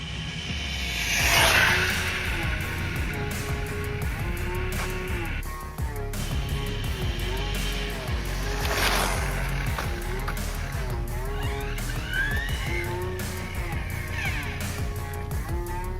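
A GTFans M610 1/12-scale RC buggy fitted with a 14-tooth pinion runs at speed, its electric motor whining steadily with pitch rises and falls and brief whooshes as it passes near, heard without talk.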